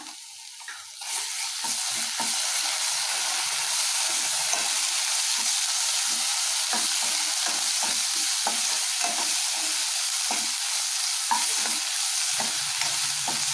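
Half a spoonful of homemade ginger-garlic paste fries in a hot pan for Punjabi-style paneer butter masala, giving a loud, steady close sizzle broken by frequent scraping stirs, with no voices.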